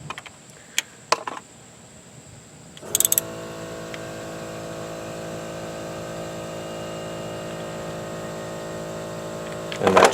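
A 1/4 inch ratchet threads a cam position sensor bolt on a 2006 Nissan. A few sharp clicks come first, then a steady mechanical ratcheting whir runs close and continuous for several seconds, ending in a brief louder burst.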